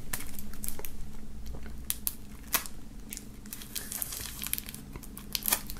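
Plastic foil wrapping is torn and crinkled off a music box set, with sharp irregular crackles and rips close to the microphone, some louder snaps scattered throughout.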